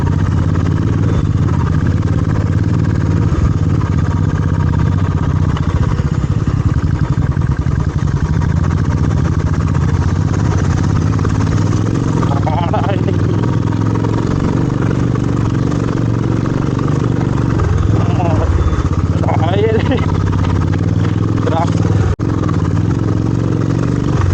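A motorcycle rides along a road on a New Year off-road ride to Bolumalai, with a loud, steady engine drone and wind roar running unbroken through the whole stretch and occasional rattling clatter.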